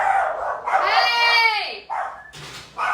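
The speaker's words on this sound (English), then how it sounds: "My dogs heard the dogs barking." Dogs bark and howl indoors, loud and near, with a long drawn-out howl followed by sharper yips and barks.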